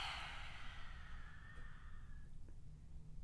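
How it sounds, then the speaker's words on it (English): A long, breathy open-mouthed exhale with the tongue stuck out during a yoga flow class, a broad airy rush that is loud at first and fades after about two seconds over a low background hum. "stick out your tongue, open the mouth wide on your exhale"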